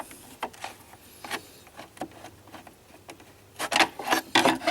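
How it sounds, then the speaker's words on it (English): Flathead screwdriver prying and releasing the tension clips on the plastic air filter cover of a 2008-2014 BMW X6, giving scattered close scraping and clicking rubs that turn louder and denser near the end. "Then you use a flathead screwdriver and release the tension from here."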